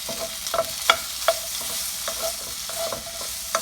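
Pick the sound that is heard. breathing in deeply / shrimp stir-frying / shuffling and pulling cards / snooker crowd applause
shrimp stir-frying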